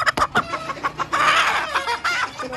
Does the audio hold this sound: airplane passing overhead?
no